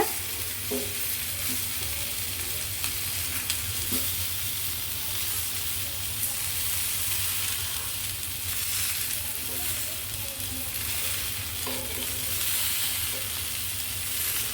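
Chicken pieces sizzling as they are stir-fried and tossed in a pan for a pepper fry, a loud, continuous frying hiss with occasional scraping stirs, close by and without talk.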